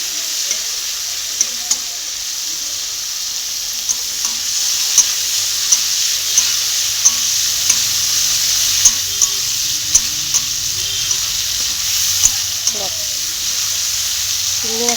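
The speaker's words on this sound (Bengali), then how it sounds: "চিংড়ি মাছটাকে ভেজে নিলাম হালকা করে" Prawns fry lightly in hot oil for a Bengali chingri kochur loti, giving a steady, close sizzle with a handful of soft clicks from stirring.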